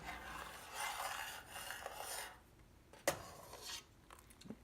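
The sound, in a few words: stirring soap pieces into heating water in a pot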